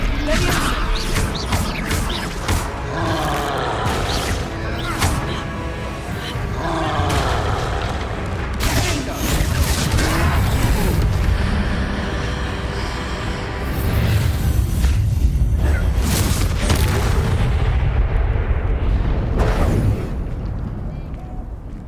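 Repeated booming Confringo spell blasts from a troll fight in Hogwarts Legacy, loud and dense, with crashes and impacts layered over game voices.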